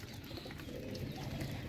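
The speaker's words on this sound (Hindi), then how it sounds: "खिदमत करो कबूतरों की" Several pigeons coo softly and continuously at a feeding spot, a low murmuring chorus at moderate distance with no talk.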